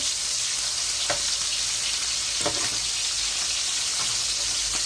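Fish fries in a pan with a dense, loud, steady sizzle, broken by a few sharp spatters and stirring clanks.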